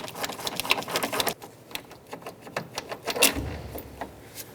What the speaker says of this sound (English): Using a 10mm socket, we're going to remove the bolt